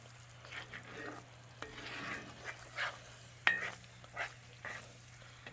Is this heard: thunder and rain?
no